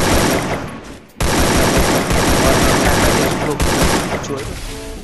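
Bursts of AK47 fire in the Garena Free Fire mobile game crackle loud and dense, a rapid fusillade that breaks off briefly near the one-second mark, then resumes and continues almost unbroken to the end.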